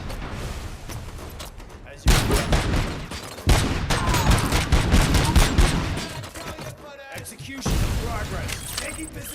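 Gunfire in RoboCop: Rogue City video game, dense fusillades of rapid shots and heavy impacts in several loud bursts, with brief drops between them and voices shouting over the combat.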